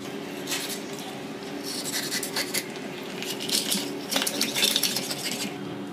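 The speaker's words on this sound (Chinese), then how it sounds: "从鱼头这里开上一刀，来，我们现在这样子，把整块鱼肉铲出来" A knife scrapes and slices fish flesh away from the bone, giving close, continuous rasping strokes against a cutting board, steady and unaccompanied by speech, for a sour-soup fish dish.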